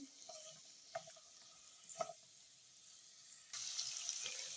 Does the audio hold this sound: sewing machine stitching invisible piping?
no